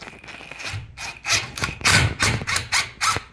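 A drill gun boring a hole sized for a 10-32 screw in an attic, heard as a series of short, loud grinding and squealing bursts in uneven rhythm, close by and without talk.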